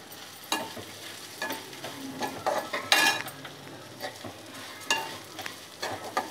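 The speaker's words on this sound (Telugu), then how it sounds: "అలాగే ఒక పావు కిలో అటుకులు తీసుకున్నాను ఇవి కూడా వేయించుకోవాలి" Flattened rice (poha) is roasted in a pan with light ghee, giving a soft dry sizzle under scattered scraping stirs and spoon clinks that come in irregular bursts close by.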